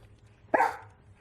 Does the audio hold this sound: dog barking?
yes